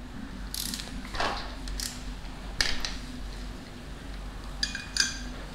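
A ratchet works 10 mm bolts off a pulley guide wheel on a 2019 Honda Monkey engine during a big bore kit install, with faint clicking bursts and light metallic tool clinks over a steady background hum.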